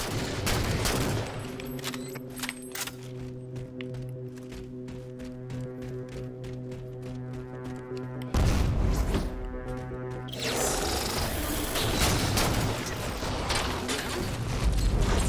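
Rapid bursts of gunfire and mechanical clatter from a shooter video game, layered over steady game music, with a heavier crash of sustained shots midway and continuing busy firing toward the end.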